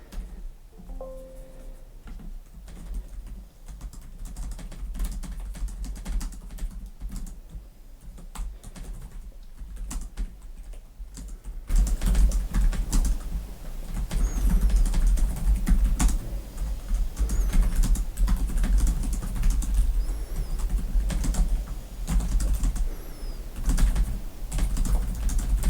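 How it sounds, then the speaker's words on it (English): Typing on the keyboard of a Lenovo ThinkPad E16 Gen 3 budget laptop, a steady run of close, soft key clicks that grows louder and denser partway through, with no talking. "let's give it a quick type here"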